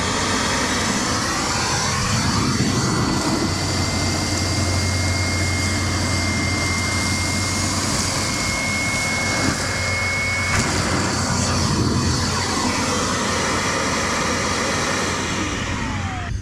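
An EGO battery-powered shop vac runs on its turbo setting, a loud, steady whining roar of suction and airflow that holds throughout with slight shifts in pitch as it moves, no talk.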